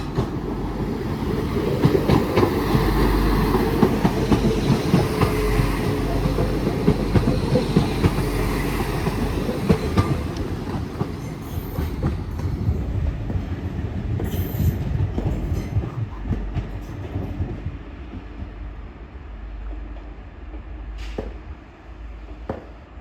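A Class 197 train heading to Manchester Oxford Road passes through Earlestown station, a loud rumbling roll with clickety-clack of wheels over rail joints and faint squeals, gradually fading as it moves away.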